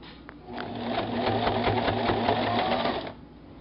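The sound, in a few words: sewing machine stitching a hoodie seam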